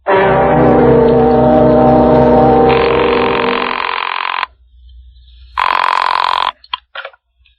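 A telephone rings loud and close in a radio drama, an electric bell pealing continuously for about four seconds, then a short pause, then another ring cut off abruptly, followed by a few faint clicks.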